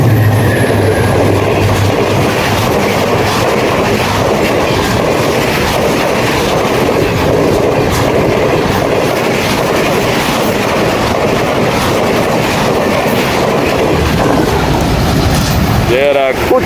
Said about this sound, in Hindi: GMU30 सीरीज़ का एक ज़बरदस्त इंजन 8218,